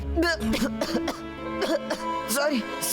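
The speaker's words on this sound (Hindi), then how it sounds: "पता नहीं अचानक खांसी क्यों आने लगी" Several harsh coughs and throat-clearing sounds close up in a cartoon classroom scene, mixed with a voice and background music.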